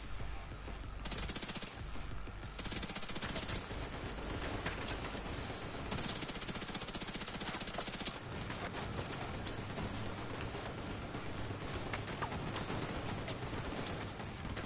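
Mounted gun in a video game firing long rapid automatic bursts, dense and loud with brief pauses between bursts.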